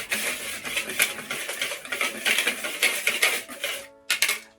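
A whisk scrapes and clinks briskly against a bowl, stirring flour with baking soda, baking powder and salt for a yellow cake batter; quick, steady metallic ticking up close that stops briefly near the end, with no talking.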